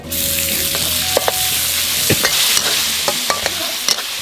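Crocodile meat is stir-fried with garlic in a hot pan, a loud, steady sizzle broken by sharp clacks of utensil on metal as the food is tossed, with no one speaking.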